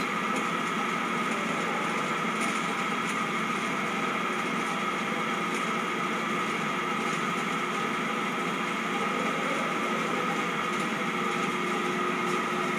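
A DC motor driven through an AC-DC converter runs near its 6 A rated current in a lab machine setup, giving a continuous, even electrical hum and whine with no pauses.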